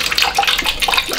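Balsamic vinegar, 150 ml, poured for an onion confit with red wine, a steady liquid splash and trickle lasting about a second, close and fairly loud with no talk.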